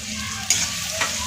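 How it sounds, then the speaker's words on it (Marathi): Tomatoes sautéing in a pan for egg curry, a steady close sizzle with a couple of quick stirring scrapes. "टोमॅटो सुद्धा छान असा परतवून घेऊया।"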